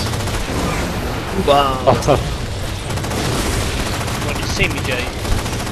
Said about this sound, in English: Just got hit by 2 incineration cannons.